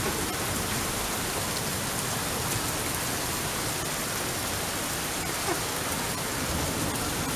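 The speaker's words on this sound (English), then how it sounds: "It's raining so hard you can barely see," Heavy, cold rain pours down steadily in a cemetery, a dense, even hiss of drops hitting the ground and surfaces with no break and no voices, loud and close throughout.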